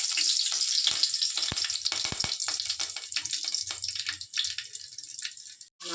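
Curry leaves dropped into about four tablespoons of hot oil, crackling and spitting in a loud, dense sizzle that sputters and pops close by and then briefly cuts out near the end.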